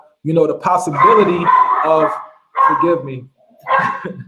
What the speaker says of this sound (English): That's my dog. He's very excited about homeschooling apparently.